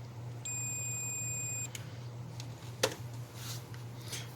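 A multimeter gives a steady continuity beep lasting about a second while back probing the orange and yellow wiring of a 2004 Jeep Liberty 4x4 relay circuit, followed by faint handling clicks.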